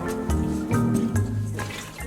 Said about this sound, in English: Now I'm adding in the beef broth.